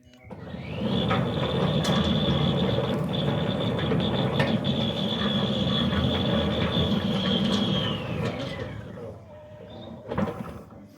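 A Centurion D6 Smart gate motor runs a closing cycle downhill, a steady mechanical whirr with a high whine that holds for several seconds, then slows and stops. Faint background noise sits under it.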